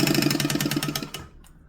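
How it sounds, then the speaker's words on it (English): A sewing machine runs fast stitches through thin, skinny fabric, a steady rapid mechanical chatter for about a second before stopping, followed by a brief faint rustle. "this machine is not designed to stitch such skinny fabrics"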